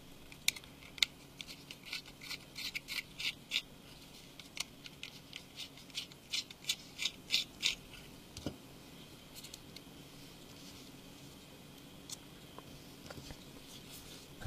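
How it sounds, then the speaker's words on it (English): A T5 Torx screwdriver backing out two small screws from the bottom of a Lumia 920 phone, heard as faint, close, irregular clicks and ticks in quiet surroundings. "Now we need to remove 2 Torx screws at the bottom using the larger T5 screwdriver."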